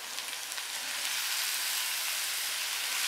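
Minced meat (keema) frying in a pan with softened onions, a steady, close hiss of sizzling fat that swells slightly and holds constant throughout, with no talking.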